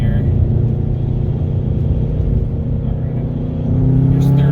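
A car engine pulls hard at full throttle in third gear, a loud, steady, close rumble that swells slightly toward the end as the revs climb.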